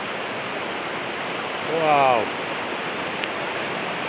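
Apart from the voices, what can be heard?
heavy rain and swollen stream pouring down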